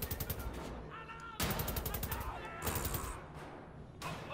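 Gunfire in Wolfenstein: The New Order, loud rapid bursts of shots in several stretches with brief pauses between them, mixed with game sound effects.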